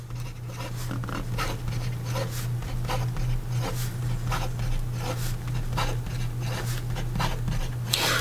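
A Karas Kustoms Fountain K fountain pen writes quickly on paper, giving a continuous scratchy rustle of rapid strokes with a steady low hum underneath.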